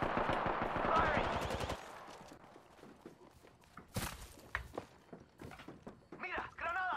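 Gunfire in the video game Apex Legends: a rapid burst of automatic shots up front, then scattered single shots and thuds, with a voice talking over the action.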